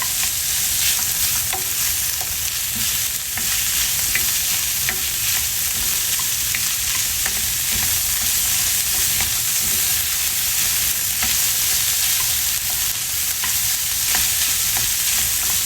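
Mixed vegetables stir-frying over high heat for a Chinese wonton and yuk sung filling, with a loud, continuous sizzle broken by light scrapes and stirring clatter from the pan, and no talking.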